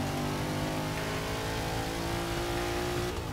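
A race car engine in the video game Forza 6 accelerates, a loud, sustained tonal whine with its pitch slowly rising and then falling as it speeds along, with no talk.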